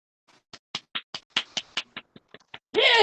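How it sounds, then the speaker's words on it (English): A single person claps by hand, giving about a dozen sharp, close claps in a quick, slightly uneven rhythm, then a burst of louder noise at the end. "Sorry, I had to give you a clap then"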